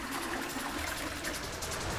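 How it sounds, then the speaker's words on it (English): Toilets on a cruise ship flush during cleaning, giving a continuous, loud rush of draining water that fills the whole moment without any voices. "They're all flushing nicely, running away nicely."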